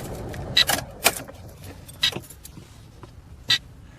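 Car keys jangle and click in the ignition in several short bursts as someone tries to switch off a running car, with a faint engine hum underneath.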